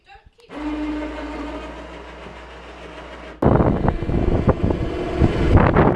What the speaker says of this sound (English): As you can hear, it's a cold and windy day down there